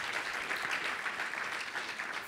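An indoor audience at a Boys and Girls Clubs event in Puerto Rico claps in a dense, even burst of applause, steady and moderately loud throughout the short stretch, with no talking over it.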